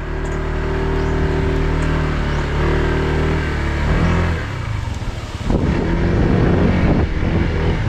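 Strong wind buffets the microphone outdoors on an overcast day, a loud roaring rush that rises and falls in gusts. A vehicle engine drones underneath, and a low rumble and clatter burst in near the end.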